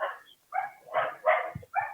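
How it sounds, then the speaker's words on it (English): A dog barks five times in quick, uneven bursts somewhere in the room during a podcast recording. The barks are fairly close and clear, with short silent gaps between them and no talk over them. "Fucking dog."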